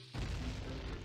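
Explosion in Zelda: Ocarina of Time, a single loud boom with a dense rumbling tail lasting about a second, no voices.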